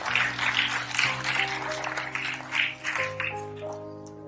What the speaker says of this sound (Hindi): दोस्तों एक जोरदार तालियां होनी चाहिए।